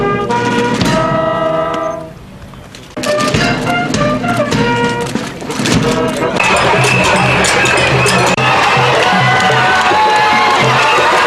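Crowd greeting Senegal's president Macky Sall on a three-kilometre walkabout in Ziguinchor, a loud continuous roar of cheering and shouting voices with musical tones, briefly dipping before swelling again.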